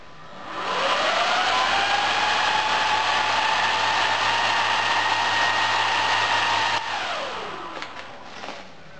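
Loud 12 volt cooling fans on a homemade induction furnace built from microwave oven parts spin up to a steady, roaring whir with a whine on top, hold constant for several seconds, then wind down as they are switched off.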